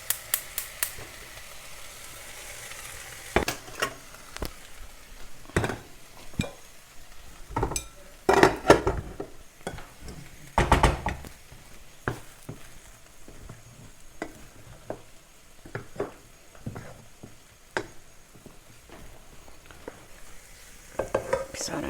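Fried rice stir-fried in a pan: a spatula scrapes and clinks against the pan in irregular strokes over a soft continuous sizzle, close and moderately loud.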